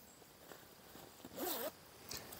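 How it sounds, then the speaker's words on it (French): Inner zipper on a British AFV coverall in MTP camouflage, pulled once in a short, quiet zip against a faint background. "Et à l'intérieur, vous avez une fermeture éclair, donc pour faciliter l'enfilement de la combinaison."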